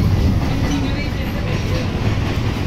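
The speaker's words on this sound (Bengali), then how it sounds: "আমাদের ট্রেন দমদমে প্রবেশ করে গেছে" An AC local train rolls into Dum Dum Junction, a loud, steady rumble of wheels and carriage noise with faint rhythmic clatter, heard from inside the coach with voices in the background.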